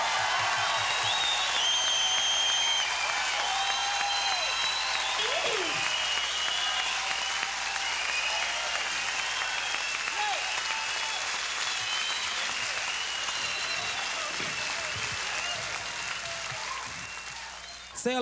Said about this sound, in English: Please, a round of applause for the Creole band.